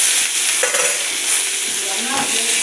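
Green chilies, dried red chilies, curry leaves, tomatoes and onions frying in a spoonful of oil, giving a steady close sizzle with soft stirring scrapes throughout.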